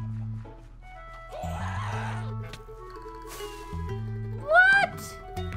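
Horse neighing in the Minecraft video game, a loud whinny with a falling pitch rising out of game music and ambient noise near the end of the stretch.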